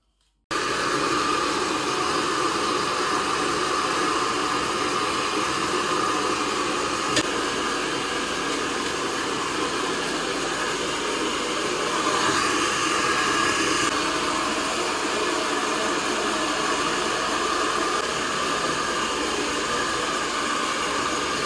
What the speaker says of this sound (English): it's gonna be more easy for me to blow dry it as well